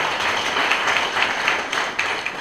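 Audience applause for the Dean of Students at a university guild swearing-in and handover ceremony: a steady wash of many hands clapping from a crowd, continuous and fairly loud throughout, with scattered sharper claps standing out.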